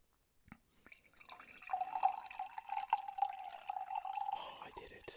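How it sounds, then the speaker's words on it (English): Water is poured into a glass close to the microphone in an ASMR recording, a trickling stream that rises in pitch as it fills and moves from one ear to the other. "I'm gonna try to go ear to ear whilst pouring"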